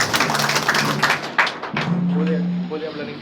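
A church congregation claps for the Lord during a Haitian worship and deliverance service, a quick burst of clapping and taps heard beneath a loud preacher's voice before the applause fades and speaking continues.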